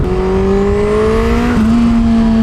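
Turbocharged Suzuki Hayabusa motorcycle revving hard on a dyno, a loud close engine note rising steadily then holding high with a continuous roar and no talk.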